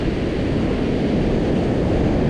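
Ocean surf on a beach during surf fishing rolls in as a loud, continuous wash with wind rumbling against the microphone and nobody speaking.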